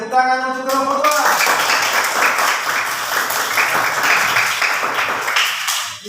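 A class claps together for a student group, a dense, steady burst of clapping from a small crowd that lasts several seconds. A brief voice is heard just before the clapping begins.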